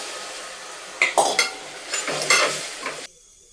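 Mutton pieces being stirred as they fry in a pan: a low sizzle behind a few close scraping and clinking strokes of the spoon, then the sound cuts away abruptly, with no voices.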